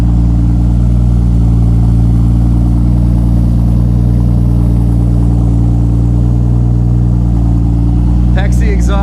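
A 2JZ-GTE Aristo-swapped MKIII Toyota Supra runs through a Pexi exhaust with an SLP resonator, giving a loud, steady, low grumbling idle close by, with a brief clatter near the end.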